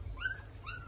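A puppy whimpers in two short, high, wavering cries, close and fairly quiet, with a gap between them and no talk.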